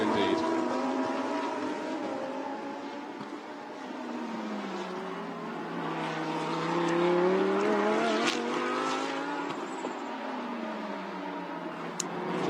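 Lamborghini Super Trofeo race cars lap the Yeongam circuit, engine notes rising and falling as they pass through a turn, with a race commentator talking over the steady track noise.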